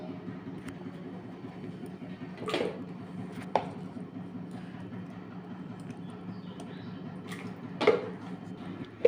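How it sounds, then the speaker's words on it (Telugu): A kitchen mixer grinder churns curd cream with a little water to separate butter for homemade ghee, giving a steady, close whirring drone with a few sharp knocks and clatters over the run. "పెరుగు మీద మేగడేసి కొంచెం వాటర్ పోసి మిక్సీ వేసేద్దాము"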